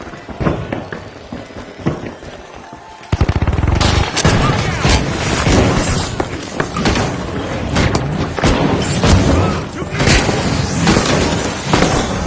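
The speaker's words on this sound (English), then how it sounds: "Outgoing gas grenade!" A gas grenade goes off during a video game match, then a loud dense stretch of gunfire, bursts and booms follows from the sudden onset onward, continuing as sustained chaotic combat noise.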